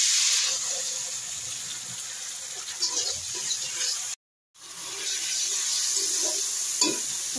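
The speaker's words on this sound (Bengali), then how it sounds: "একটু গরম পানি দিয়ে দিচ্ছি।" Hot water poured into a pan of frying spice mixture for a home-cooked curry, giving a steady loud sizzle and bubbling hiss with stirring scrapes, a brief cut to silence midway, then sizzling resumes.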